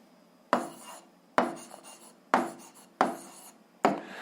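Pen or chalk writing out an algebra solution, five distinct bursts of scratching strokes in quick succession, close and quiet, with no talk.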